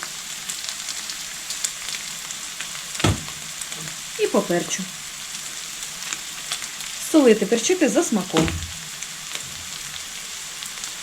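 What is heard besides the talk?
carrot and onion frying in pan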